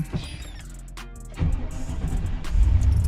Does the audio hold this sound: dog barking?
no